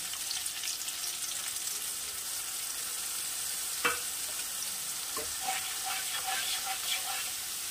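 Spice paste frying in a pan for a bhola fish curry, a steady quiet sizzle with occasional stirring scrapes and light clinks, no voices.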